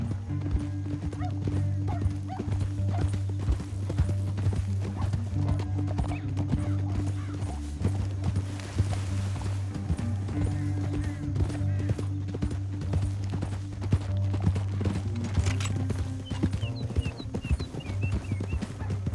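Horse hooves clip-clop steadily in a quick galloping rhythm in Red Dead Redemption 2, over a low rumbling score, with a horse whinnying now and then.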